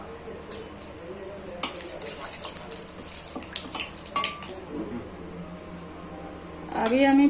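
Oil pours into a hot kadai with a continuous close, watery hiss and scattered crackles while cooking chicken kaleji gravy. A voice joins near the end.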